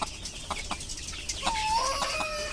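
A deshi rooster with a swollen eye clucks in short, irregular bursts close by on a poultry farm, with one longer drawn-out call in the middle and no speech.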